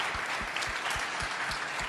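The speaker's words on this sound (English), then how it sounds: "Yes, please clap to that." A studio audience claps steadily and close for about two seconds during an interview about a Blue Origin spaceflight, with a rhythmic thumping beat running under the applause.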